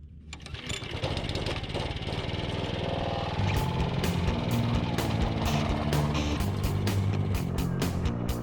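A scarifier power rake starts up and runs on a back lawn pulling up dead grass, its small engine droning close by with a rattling, knocking mechanical chatter and intermittent sharp clicks of tines; no talking.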